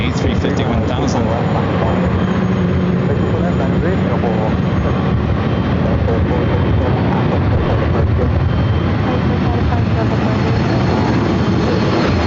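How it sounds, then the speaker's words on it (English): A Virgin Atlantic Airbus A350-1000 takes off at LAX, a steady loud roar of jet engines filling the whole stretch without letup, with no clear talk over it. "Virgin Atlantic flight 8 heading back to London Heathrow, the A350-1000."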